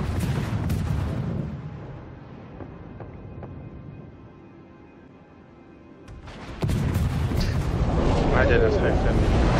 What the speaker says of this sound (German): Da kommen die hinterlistigen Torpedos.